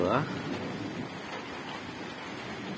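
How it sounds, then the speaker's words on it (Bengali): Rain falls in a steady, dense hiss in Atgharia, Pabna, with a brief muffled sound at the very start before the downpour continues evenly. "কত সুন্দর বৃষ্টির দৃশ্য।"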